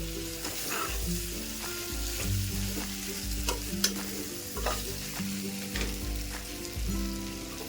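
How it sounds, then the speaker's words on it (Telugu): Boiled goat tripe (boti) fries in a pan with a steady close sizzle, while a spoon scrapes and stirs in repeated rhythmic strokes throughout; no one speaks. "ఈ బోటీని మనం ఇందులో వేసేసుకోవాలి వేసుకొని మనం బాగా ఇది కూడా కలుపుకుంటా మనం వేయించుకోవాలి"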